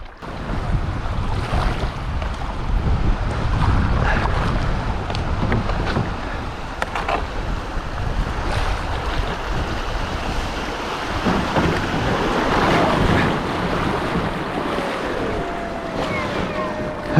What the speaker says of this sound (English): Now just 3 miles of waves and wind and I'll be back.